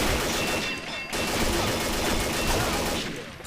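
XM8 rifle gunfire in a first-person shooter game, sounding as rapid, sustained bursts of shots that are loud and near, continuing almost without a break and dipping only briefly.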